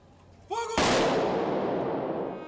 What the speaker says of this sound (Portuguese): Depois, uma salva de tiros.